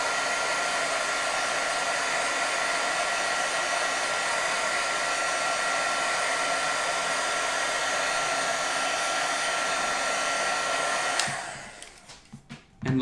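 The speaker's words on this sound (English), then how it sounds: "So I'll grab my heat tool," A craft heat tool blows steadily and loudly to heat set ink, a constant roaring whoosh that runs for about eleven seconds before cutting off, followed by a few faint handling knocks.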